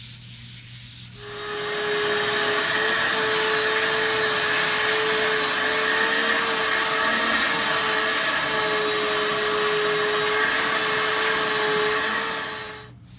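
A loud vacuum cleaner, used to clean up around oak kitchen cabinets being painted, starts with a click and runs steadily with a constant whining drone for about ten seconds before cutting off.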